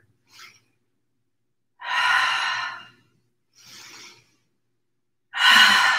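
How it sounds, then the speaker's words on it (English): Slow breaths during an anti-gravity yoga session, with a faint breath, then a long loud exhale, a softer breath, and another strong exhale, each separated by silence and close to the listener. "Exhale, forward."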